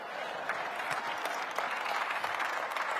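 Applause from an audience at a Detroit political breakfast event fills the whole stretch as dense, steady clapping at moderate distance.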